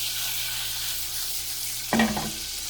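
Butter sizzling in a pan while cooking garlic chicken thighs, a steady hissing fry with a brief louder crackle and stir partway through.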